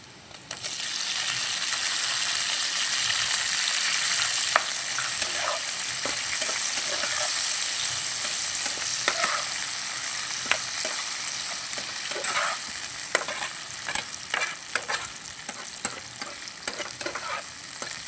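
Tomatoes fry in a hot pan while being stirred, a close, crackling sizzle broken by scraping clicks and taps from the spoon, steady throughout with no talking.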